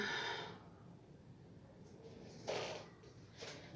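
A person doing yoga exhales audibly, with a breathy rush at the start followed by two shorter, softer breaths, faint and close in a quiet room.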